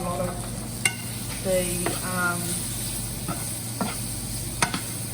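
Spices stirring and sizzling in about two tablespoons of hot oil for an African chicken stew, a steady soft frying hiss with scraping stir strokes, close by, while a person talks over it.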